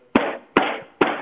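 Three loud, evenly spaced pounding blows land about half a second apart, each a sharp heavy thud with a brief ringing tail, with nothing else heard between them.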